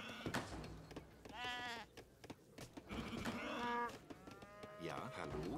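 Sheep bleats and cattle moos from livestock in Age of Empires III, several overlapping animal calls spread across the span, with someone speaking softly between them.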